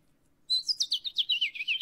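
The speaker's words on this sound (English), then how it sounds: "The house finch." A house finch gives a quick run of bright, warbling chirps that sweep up and down, heard alone and fairly close after a brief quiet moment.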